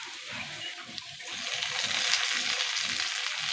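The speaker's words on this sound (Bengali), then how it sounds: "এবার তো টমেটো কুচি দিয়ে দেবো" Chopped tomatoes dropped into hot oil with fried onions, giving a steady, bright sizzle that swells and stays loud, while soft background murmurs sit underneath.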